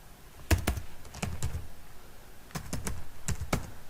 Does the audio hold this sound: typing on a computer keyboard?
yes